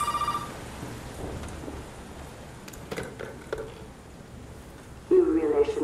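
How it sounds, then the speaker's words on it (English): A telephone ringing in Resident Evil 7, a brief electronic ring at the start and a louder burst of ringing near the end, over a rumbling stormy game ambience with a voice talking in between. "The phone is ringing."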